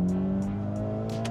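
Engine of a modified Hyundai Elantra N with bolt-on mods, a loud steady droning tone that holds evenly through the short clip with faint pops and hisses above it.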